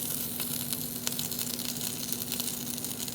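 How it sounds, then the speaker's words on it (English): Cheese lumpia Shanghai, small mini egg rolls, sizzle in hot oil with a steady crackling hiss and scattered pops, close and continuous with no talking. "as you can see, we are frying the cheese lumpia Shanghai"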